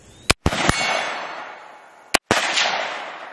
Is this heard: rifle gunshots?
yes